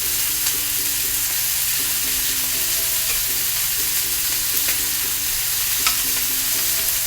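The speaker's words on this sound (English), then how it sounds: "You want to hear that sizzle when the pan goes on." Ribeye steaks sear in a hot pan with a steady, loud sizzle and crackle, joined by occasional metallic stirring clinks and a low background hum, with no voices.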